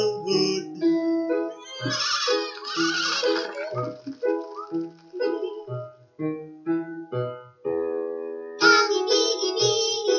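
Sheep bleat repeatedly in wavering, tonal cries, close and fairly loud, with some calls overlapping and short gaps between them.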